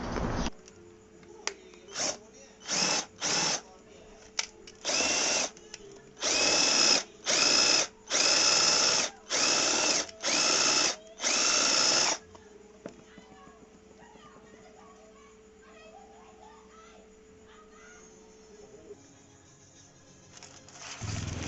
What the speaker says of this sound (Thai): เตรียมอุปกรณ์เสร็จก็ทำการยิงลูกรีเวทออกเลยนะครับ